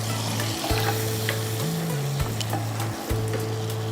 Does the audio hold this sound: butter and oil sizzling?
yes